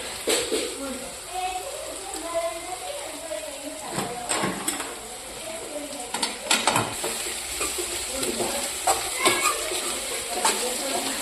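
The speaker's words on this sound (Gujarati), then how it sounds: "ડુંગળીનો વઘાર કર્યો" Chopped onion and green onion sizzling in hot oil for a village-style roasted eggplant dish, with steady frying hiss and sharp scrapes of a spoon stirring against the pan while people talk nearby.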